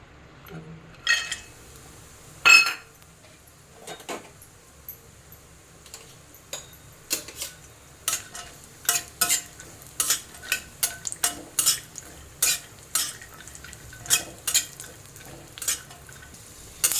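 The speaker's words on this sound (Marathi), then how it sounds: "थोडंसं मी तूप टाकते आपल्याला सुका मेवा तुपामध्ये थोडासा भाजून घ्यायचा आहे" Dry fruits roast in ghee in a pan for Govind ladoo, a faint soft sizzle beneath a string of sharp, close ticks and scrapes from a spoon stirring against the metal.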